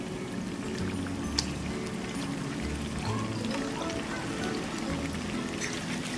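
Ground masala paste for chicken kolhapuri, a spicy red chicken curry, pours and splashes into a pan as a wet, steady rushing pour with soft sputtering, close and continuous with no talking.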